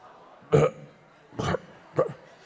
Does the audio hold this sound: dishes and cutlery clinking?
no